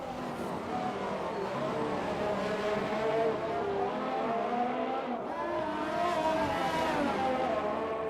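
A race car in a racing video game powers out of a corner on the throttle, its engine note rising and droning steadily throughout, close and continuous, with the rear end briefly stepping out.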